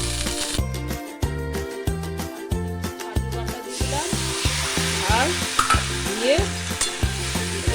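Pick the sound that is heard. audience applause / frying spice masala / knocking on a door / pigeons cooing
frying spice masala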